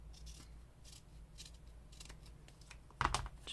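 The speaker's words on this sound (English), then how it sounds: "I am going to trim these little frayed pieces" Scissors trimming frayed paper pieces while building a junk journal spine from a puzzle box, with a few quiet, close snips spread through a near-silent stretch and one sharper cut near the end.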